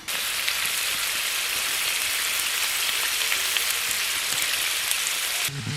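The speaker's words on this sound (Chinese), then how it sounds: "俺河南的特色美食香煎毛蛋" Fertilized eggs (maodan) pan-frying in oil, a Henan specialty, give a loud, steady, dense sizzle that crackles without pause, then cuts off abruptly near the end.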